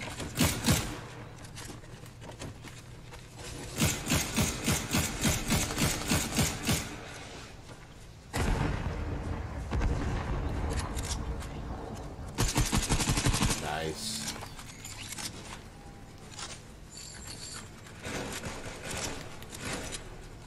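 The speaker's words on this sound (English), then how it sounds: "There's more shooting on the other side of us." Repeated bursts of automatic gunfire in the video game Fortnite, rapid loud volleys with brief gaps amid game effects, some talk mixed in.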